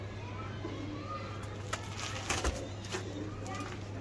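Soft coos of Kasuri pigeons drift in from nearby over a steady low hum, with faint background voices and a few brief clicks.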